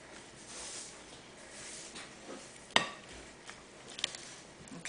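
Orzo pasta salad with colorful peppers is stirred in a bowl, giving soft scraping and shuffling with a couple of sharp utensil clinks against the dish.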